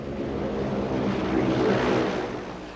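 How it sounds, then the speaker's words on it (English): A propeller plane comes down on a rural airstrip in Zimbabwe in 1980, a steady droning engine at moderate distance, swelling slightly then easing, with no voices. "As his plane, called the Free Enterprise, puts down at another strip"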